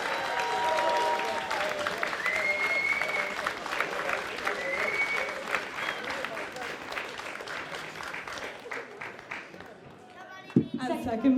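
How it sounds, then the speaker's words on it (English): Audience applause at a Battle of the Bands event, steady dense clapping from a room crowd lasting several seconds and fading toward the end, with brief sounds at the close. "Can we have a round of applause for LA1 TV?"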